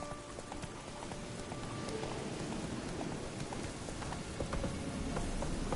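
Geralt's horse Roach trots in The Witcher 3, steady clip-clop hoofbeats close by over a wet hiss of falling rain, continuous and even throughout.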